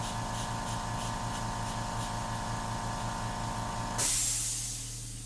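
A steady fine hiss of an airbrush spraying India ink runs continuously over a low rhythmic mechanical hum, then shifts abruptly to a brighter, breathier spray near the end.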